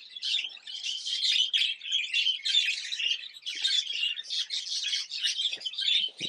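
Budgie chicks and their parents chirping in a dense, continuous chatter of high, rapid tweets and squawks, close and fairly soft, with no voices.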